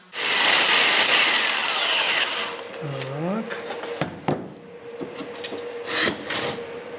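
Hand sanding of CNC-cut carved wooden decor elements during building restoration, a continuous rasping rub that is loud at the start and then eases, broken by a few sharp knocks and handling clatter.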